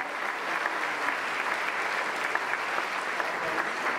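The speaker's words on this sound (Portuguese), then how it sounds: "E um aplauso para esse Jesus." Congregation applause during a church service, an even, continuous roar of many people clapping at once, heard from a little distance and sustained throughout.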